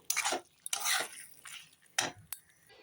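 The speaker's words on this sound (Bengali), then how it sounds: "এখন নামানোর আগে আমি দেখো দিয়ে দিলাম ধন্যবাদ কুচি ধনে কুচি দিয়ে নেড়ে চেড়ে নিলাম" A spoon stirring and scraping chorchori curry in a pan after chopped coriander goes in, with a few short, soft clinks and wet scrapes spaced irregularly, close up and alone.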